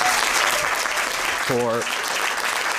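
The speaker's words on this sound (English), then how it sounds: "let's all give her a huge round of applause" Sustained applause fills a state legislature chamber, steady and loud throughout, while a voice speaks briefly over the clapping.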